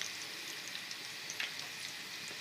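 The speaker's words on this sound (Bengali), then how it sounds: "মাছ দেখেন ডুবো তুলে ভাজা হচ্ছে," Pieces of tuna deep-frying in a pan of oil for a fish pickle give a faint, steady sizzling hiss with small crackles throughout, heard alone.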